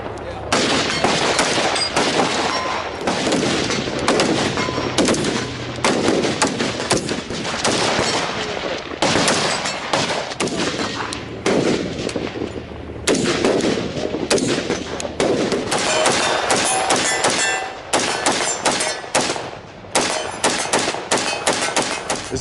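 Rifle gunshots firing in rapid, dense bursts at close range, loud and sharp, with occasional short gaps and faint speech mixed in.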